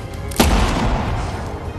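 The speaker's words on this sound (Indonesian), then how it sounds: "Mendengar suara tembakan, Piglet pun hadir." A single booming gunshot lands over a dense, noisy background, its low rumble lingering briefly afterward.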